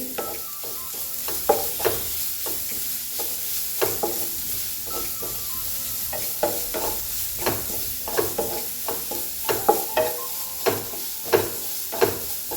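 Carrots fry in ghee for a sabudana carrot payasam, giving a soft continuous sizzle punctuated by regular spoon scrapes and taps as they are stirred, close and without voices.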